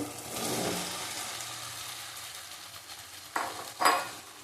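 Potatoes for shahi aloo dum sautéing in a pan: a soft sizzle and swish of stirring at first, then fading, followed by two sharper scraping strokes of a spoon, close and fairly quiet.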